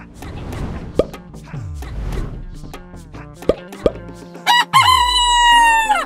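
A loud rooster crows once near the end, following a few soft plops and talking.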